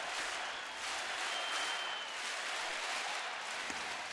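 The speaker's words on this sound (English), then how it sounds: "Crowd is into it, huh? They are loving it." A baseball stadium crowd during a Detroit at Cleveland game keeps up steady applause and cheering, a dense, distant roar of clapping without pause.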